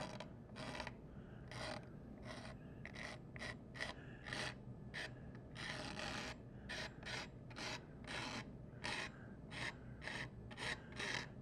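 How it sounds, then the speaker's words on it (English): Paint is scratched off a canvas in a quick run of close, raspy strokes. The rhythm is fairly regular, the scrapes are faint, and they are heard alone. "what I'm doing is scratching it, the paint off."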